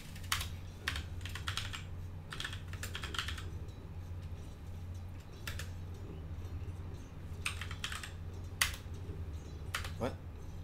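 Rapid typing on a computer keyboard during a Dota 2 session, with bursts of clustered key clicks separated by short pauses, fairly close and steady over a low constant hum, with faint background voice.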